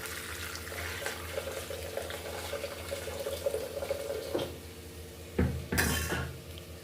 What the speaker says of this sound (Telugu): రైస్లోకి వేయడానికి కొన్ని మీల్ మేకర్స్ని తీసుకొని హాట్ వాటర్ పోసుకుంటున్నాను.